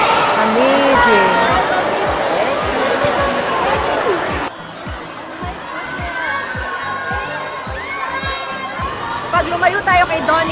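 Excited crowd of fans shouting and cheering, a dense, loud roar of voices with rhythmic thumps, dropping in level partway through and carrying on as a busier babble.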